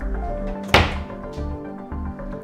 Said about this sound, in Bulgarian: Открехвам вратата съвсем леко, бъркам бързо в хладилника и изваждам каквото ми трябва. И затварям.